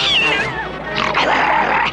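A cartoon cat gives two short, rising and falling meows, loud and close, with no talk over them.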